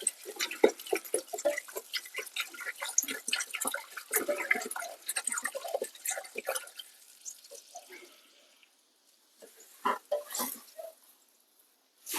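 Water from a full 5-litre jug pours into a 7-litre cauldron of shurpa cooking outdoors, a splashing, gurgling stream that runs unevenly for about eight seconds, stops, then briefly resumes with a few more splashes.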